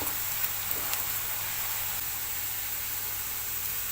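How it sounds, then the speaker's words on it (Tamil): Onions frying in a pan until brown for a homemade Saudi kabsa, heard as a constant close hiss of sizzling with a few faint clicks near the start and no voices. "வெங்காயம் இன்னும் கொஞ்சம் ப்ரௌன் ஆகட்டும்"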